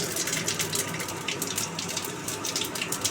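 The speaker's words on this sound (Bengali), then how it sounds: "গরম তেলে পাঁচ ফোড়ন দিয়ে দেবেন" Bengali five-spice seeds sizzling in hot oil, a continuous close crackling hiss with small pops throughout, no voices.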